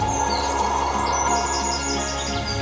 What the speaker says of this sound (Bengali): শুধু বাতাসের শব্দ, পাখির ডাক আর পাহাড়ের নিঃশ্বাস।